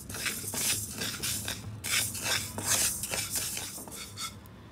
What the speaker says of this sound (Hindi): इसके लिए मैं एक छोटा मेजरिंग कप चावल ले रही हूँ। इसको अब हमें भूनना है।